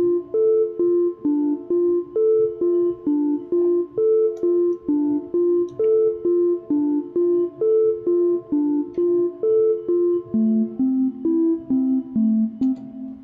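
Simple sine-based lead synth patch built in Logic Pro X Alchemy, with a slight offset and a little drive, plays a steady melodic line of even, clean sustained notes, alone and without talk.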